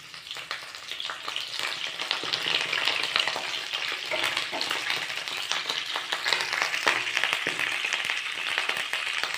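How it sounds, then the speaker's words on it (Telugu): Green chilies, dried chilies, curry leaves and seasoning seeds fry in two tablespoons of hot oil in a pan, a loud continuous sizzle broken by bursts of crackling and spatter, with no voices. "వేపుకోవాలి."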